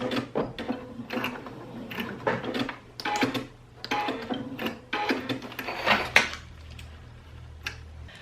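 A sewing machine stitches a bench cushion in short bursts, rapid mechanical whirring runs separated by brief pauses, fairly quiet and close, with a faint low hum underneath.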